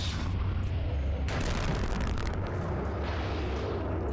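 Grenade blasts in the video game Eternal Darkness: Sanity's Requiem, a loud continuous rumbling explosion with a sharp burst partway through, dense low booming debris and roar sustained throughout.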